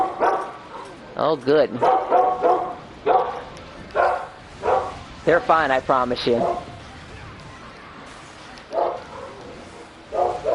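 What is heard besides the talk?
dogs barking in the house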